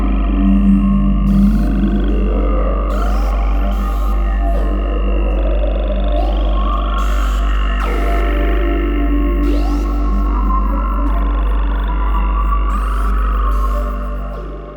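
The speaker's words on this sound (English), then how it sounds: "I'll play it again and I'll crank the white noise micro in here and check the character that" A sustained synth pad from Arturia Pigments 3 with white noise blended in, loud and continuous, with sweeping, shifting textures and a steady deep drone throughout.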